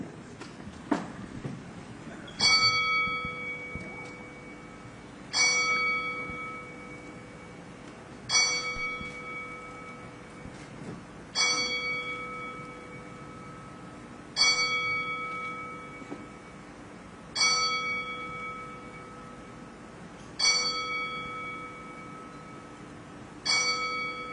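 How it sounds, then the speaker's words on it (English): A ceremonial bell at a boxing press conference tolls eight clear, evenly spaced strikes about three seconds apart, each ringing out and decaying in a quiet room with no talk. "We will toll the bell 10 times"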